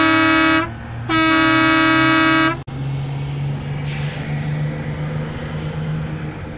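Two long, loud bus horn blasts, the second held for over a second, followed by a sharp click and then a low idling rumble with a brief hissing air brake release.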